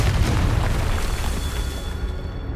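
Confringo fire spell blasts in the game Hogwarts Legacy: a loud, dense rumbling explosion roaring continuously from the start and slowly fading.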